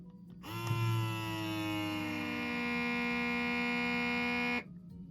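A rechargeable FoodSaver vacuum sealer pulls the air out of a jar, a loud whining motor drone that starts abruptly, drops slightly in pitch as the vacuum builds, then cuts off after about four seconds.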